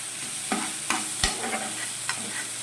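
Tomatoes salted and sautéed in a pan for a ridge gourd curry sizzle steadily, with a few sharp scrapes and stirs of a spatula close by.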